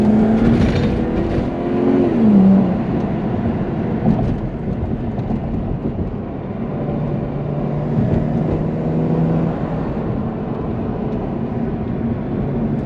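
A used daily-driver car's engine drones loudly from inside the cabin, rising briefly in pitch as it revs on a downshift out of third gear, then settling into a steady rumble under road noise, with no talking.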